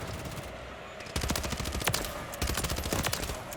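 Rapid automatic gunfire from a Static HV rifle in Modern Warfare 3, a short pause and then long sustained bursts of sharp shots, loud and close, with no speech.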